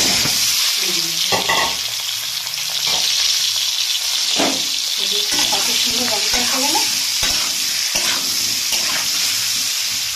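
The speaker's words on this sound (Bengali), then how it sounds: "প্রথমে তেলের মধ্যে হলুদটা দিয়ে দেবো, দিয়েই সাথে সাথে কিন্তু আমি ওই আলুটা ছেড়ে দেবো" Potatoes dropped into hot oil with turmeric fry with a loud, continuous sizzle and occasional stirring scrapes, close up, while someone speaks briefly over it.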